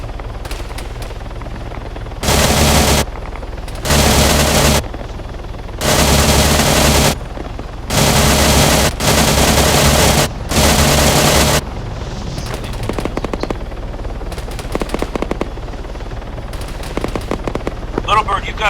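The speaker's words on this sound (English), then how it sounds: "Transport helicopter coming in." Arma military game scene with a transport helicopter's steady rotor drone throughout, broken by several loud sustained bursts of automatic gunfire close by, then scattered lighter shots over the continuing engine noise.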